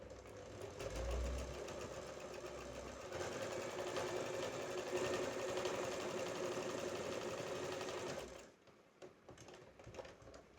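An electric sewing machine runs a lock stitch on a girl's co-ord set, a steady fast mechanical whir that pauses briefly, resumes, then stops near the end.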